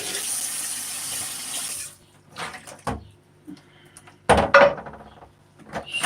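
Sour cherries, stems removed, washed in a kitchen sink: a steady stream of running tap water stops, followed by a few separate splashes and clatters of fruit being swirled in a bowl.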